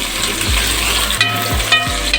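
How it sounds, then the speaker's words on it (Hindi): Onions fry in half a cup of hot oil, giving a loud, close sizzle broken by a few scraping stirs of the pan, with no voices present. "ये हाफ़ कप ऑयल लेना है और ये इसमें हम सबसे पहले प्याज फ्राई करेंगे।"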